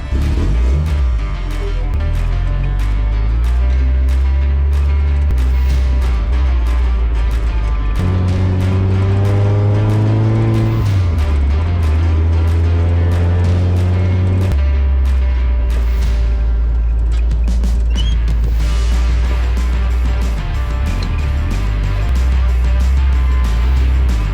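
Suzuki Samurai on freshly fitted shocks driving along, its engine loud and steady with clear gear-change steps and revving rises and falls, road rumble beneath and no voices.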